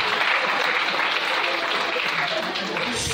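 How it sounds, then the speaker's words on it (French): A church congregation applauds to acclaim the Lord, dense steady clapping from many hands filling the room at close range, continuing evenly throughout. "Est-ce qu'on peut acclamer le Seigneur?"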